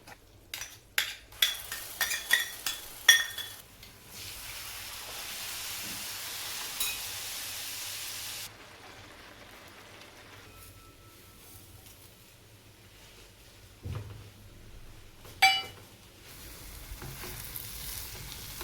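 Semolina roasting in ghee with dry fruits stirred in for sweet sheera, giving a steady soft sizzle broken by early clinks and scrapes of a spoon against the pan, then quieter frying with a few later stirs.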